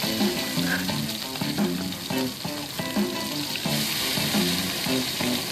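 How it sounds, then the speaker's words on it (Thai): Curry paste sizzles steadily in boiling oil over a wood fire while wild crocodile is stir-fried for a spicy dish, with a dense continuous crackle and faint scraping stirs throughout. "ตั้งน้ำมันจนเดือดแล้ว ใส่เครื่องแกงเอาเลยครับตอนนี้ครับ"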